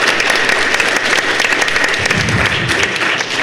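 Audience at a comics panel in San Diego gives a steady, full round of applause, dense and loud throughout with no pause.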